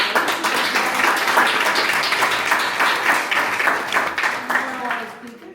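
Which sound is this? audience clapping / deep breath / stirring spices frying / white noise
audience clapping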